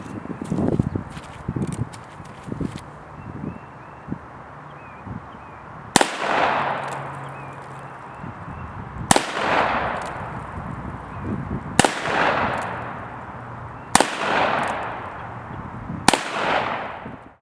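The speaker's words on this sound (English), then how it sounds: "You have just gotta love shooting those big old 45 slugs." Five loud, sharp shots from a rebuilt Colt .45 Single Action Army revolver firing big .45 slugs outdoors, spaced about two to three seconds apart, each with a booming echoing decay, after quieter handling sounds.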